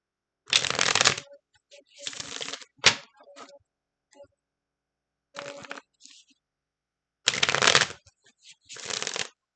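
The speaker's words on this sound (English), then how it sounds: "You better shuffle them cards right." Cards are shuffled in several quick riffling bursts separated by pauses, close and crisp, with light tapping between them.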